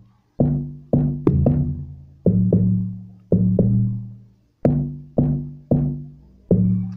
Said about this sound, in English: So moving on guys to the log drum. Here is my log drum.